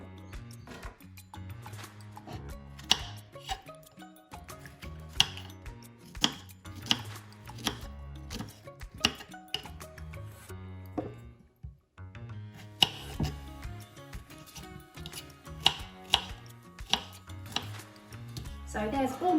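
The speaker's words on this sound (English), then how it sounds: "just need to chop them up in little pieces" A knife chops strawberries into small pieces on a board, a run of sharp, close, rhythmic taps that pause briefly midway, then resume at a steady pace.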